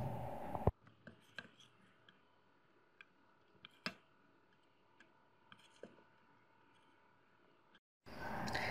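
A knife cuts thawed puff pastry into four equal pieces on a board, giving faint, scattered soft taps and clicks over a quiet background, with brief louder knocks and no talking.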